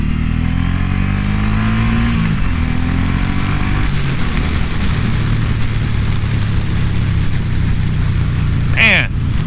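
A 2018 Suzuki Boulevard M109R B.O.S.S. motorcycle pulls hard, its engine note rising and falling through the gears for the whole stretch, loud and steady with wind rush over it.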